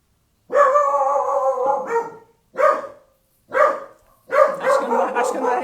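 A dog barks nearby and loudly in four drawn-out, howling bursts separated by short silences, with no talk over them.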